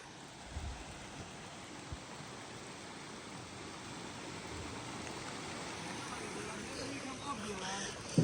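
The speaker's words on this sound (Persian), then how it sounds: "و اینکه رودخونه رو ببینین" A river runs through a snowy forest in Golestan, giving a steady, broad rush of flowing water that builds slightly toward the end, with a few soft bumps and no talk.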